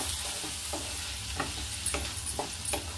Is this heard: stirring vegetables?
yes